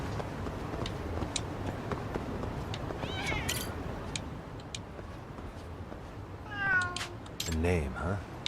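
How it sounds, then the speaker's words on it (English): Cats meow repeatedly in the video game Lost Judgment, a couple of drawn-out calls rising above a busy background of game sounds, with someone talking through it. "I'm gonna befriend all the cats in this area."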